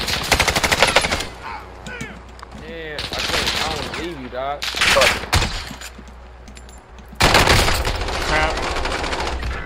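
Automatic gunfire in Call of Duty Warzone trios play rattles in loud bursts at the start, middle and end, with players talking and reacting between and under the volleys.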